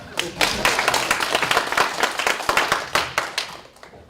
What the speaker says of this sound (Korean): 박수 한번 더 해주시면